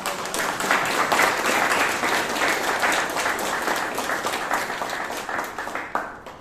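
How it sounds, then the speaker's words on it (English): Room full of people clapping at a Bangalore Toastmasters meeting, dense steady applause that starts loud and gradually thins out toward the end. "you can give a round of applause"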